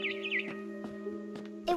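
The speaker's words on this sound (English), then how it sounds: "Then I heard chirping outside my window." Barn swallow chirping outside a window in the game What Remains of Edith Finch: quick bright chirps and twitters early on, then a few brief clicks over a steady low humming game backdrop.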